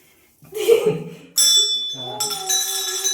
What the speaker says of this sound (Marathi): किती वेळाने घंटा वाजलेला आहे.